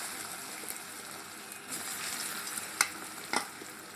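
Cornflour-coated soybeans seasoned with salt and Kashmiri chilli fry in oil in a wok, giving a steady close sizzle with a few sharper crackles and stirring scrapes near the end; no one speaks.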